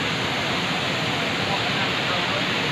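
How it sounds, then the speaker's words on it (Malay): A waterfall in Kampung Pungki, Aceh, heard up close as a steady, loud, broadband rush that fills the whole moment without a break. "Ini air terjunnya, Cok."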